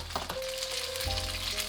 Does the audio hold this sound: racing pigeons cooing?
no